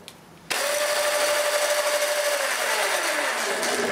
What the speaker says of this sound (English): Let's see if this motor is okay or not.